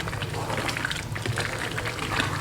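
Lentils (dal) roasting in ghee in a pan, a steady close crackling and bubbling sizzle that holds evenly throughout with no talk over it.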